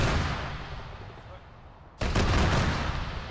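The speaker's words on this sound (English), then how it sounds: "Taking auto cannon fire from the north" A loud burst of rapid autocannon fire in a military simulation game cuts in abruptly after a quieter stretch, repeated heavy thuds in quick succession over a noisy background.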